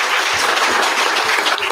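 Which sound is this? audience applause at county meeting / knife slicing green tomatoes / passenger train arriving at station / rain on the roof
audience applause at county meeting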